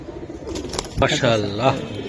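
Silver giribaz pigeons coo close by in a few soft, rolling calls over a murmur of human voices.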